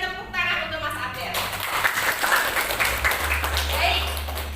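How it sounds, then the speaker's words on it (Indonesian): A classroom of students applauds one classmate, a dense spread of clapping that sits under a teacher's talking and a low steady hum throughout. "Kita berikan tepuk tangan untuk Mas Abel."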